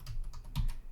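Keys on a computer keyboard clack through a short burst of about four or five keystrokes as a command is entered on a Raspberry Pi, close and fairly quiet, with no voice.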